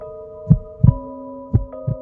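A pounding heartbeat sound effect in a scary rain story, two pairs of deep thumping beats over a sustained low hum, close and heavy.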